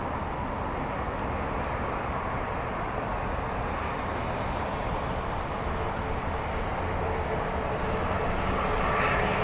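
Heavy jet aircraft at Heathrow Airport, a broad steady engine roar from a distance that holds evenly and grows slightly louder toward the end.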